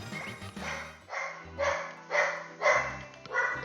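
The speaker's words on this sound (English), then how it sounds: "Can you hear a dog barking in the background?" Dog barking in the background in a regular rhythm of four or five loud barks over low game music.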